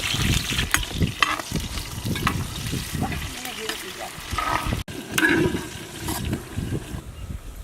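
Brinjal and tomato curry frying in oil over a village wood fire, with bursts of sizzling and stirring scrapes, close and uneven, and people talking at points in between.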